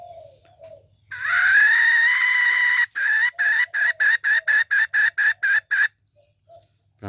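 A close, loud one-ball type jungle fowl decoy call: one drawn-out crow-like note followed by about a dozen rapid, even, clipped pulses, then silence.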